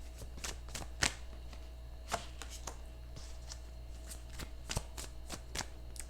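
Tarot cards being shuffled by hand, a series of quick, crisp riffling slaps and flicks at irregular intervals, close and fairly quiet against a low background hum.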